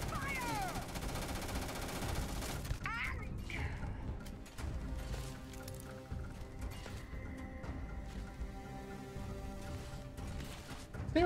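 Rapid automatic gunfire in Starfield roars continuously and loudly through a firefight, mixed with mechanical clatter and game effects, while a voice talks over it at times.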